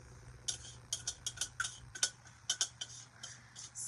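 A utensil clinks and scrapes rhythmically against a mixing bowl as dry brownie ingredients are stirred into wet ones, quick, light knocks in uneven bursts, fairly quiet and close with no talking.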